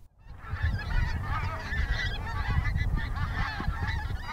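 A large flock of geese honks continuously at a distance through fog, a dense overlapping chorus of calls over a low rumbling background, with no talking.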